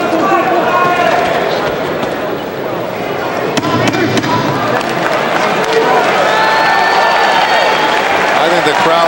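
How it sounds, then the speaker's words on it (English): A boxing crowd applauds and cheers as a fight between Bash Ali and Bobby Czyz ends, a loud, steady wash of clapping and arena noise filling the whole stretch. "Some warm applause as the fight comes to an end."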